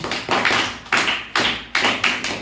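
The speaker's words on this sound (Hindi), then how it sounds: "ताली बजाओ इसके लिए, गुड क्लैपिंग" Students clap for a girl in a classroom, several sharp rhythmic bursts of applause about every half second, close and fairly loud with no talking.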